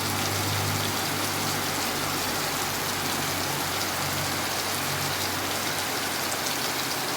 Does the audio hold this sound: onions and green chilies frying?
no